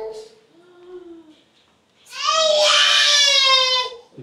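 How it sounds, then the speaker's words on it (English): Children scream and cry loudly at a home workout spot in Nicaragua, a shrill sustained wail rising after quieter childish voices and talking. "The kids are screaming."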